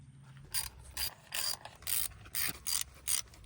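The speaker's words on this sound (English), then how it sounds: "And now we can go ahead and put the 4 bolts back in." Ratchet clicks come in eight steady bursts, close and fairly crisp, as bolts are run back into the water pump housing of a Suzuki 150 outboard motor.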